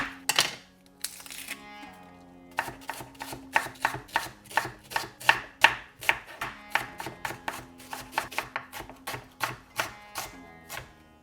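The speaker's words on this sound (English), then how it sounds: "Going to start with decent size onion. I'm going to just thinly slice it." A knife thinly slices a decent-sized onion on a cutting board, producing a rapid, even series of sharp, close chops against the board that continues without talk.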